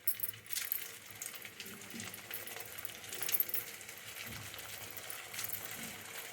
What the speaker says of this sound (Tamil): இப்போ எண்ணெயில் போட்டு பொரிச்சு எடுத்துக்கலாம்.